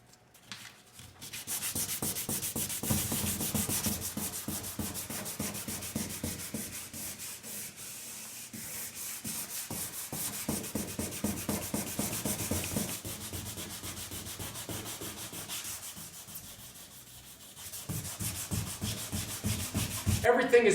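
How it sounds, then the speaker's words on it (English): Sanding old paint off the fender of an exotic kit car body: continuous, close, rhythmic abrasive strokes rubbing on for about twenty seconds. "So I got to sand through that as well"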